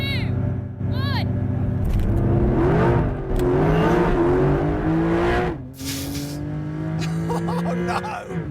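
In a racing video game, a Porsche 911 race car revs and accelerates at the race start, its engine pitch climbing and shifting through gears with a tire squeal or two, under excited talking.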